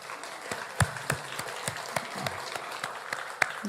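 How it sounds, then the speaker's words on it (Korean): A church congregation claps in welcome at the close of a Sunday service, a fairly quiet patter of hands with some louder individual claps standing out, continuing steadily with no talk. "우리 박수로 환영하겠습니다."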